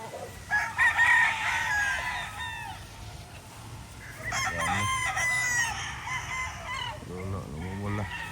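A rooster crows several times at moderate distance, drawn-out calls separated by short gaps, with other chickens clucking in the background.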